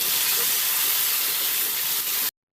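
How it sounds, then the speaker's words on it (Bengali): Potato pieces, drained from water, go straight into hot oil for a home-cooked aloo phulkopi dalna, giving a loud, steady, hissing sizzle that runs without a break and then cuts off abruptly. "কেটে রাখা আলুগুলো পানি থেকে ছেঁকে ছেঁকে এই তেলের মধ্যে ডাইরেক্টলি দিয়ে দিন"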